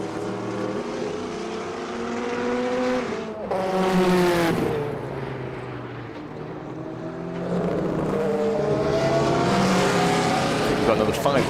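Group C sports prototypes with V8 engines racing on a circuit at a historic motor racing meeting, their engines droning and surging past, loud and continuous throughout, with some speech mixed in.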